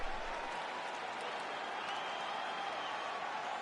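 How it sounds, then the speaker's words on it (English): A crowd at a UFC fight night claps and cheers in appreciation after a round, a steady dense wash of applause and crowd noise with commentators talking over it. "So the crowd voicing its appreciation after that round."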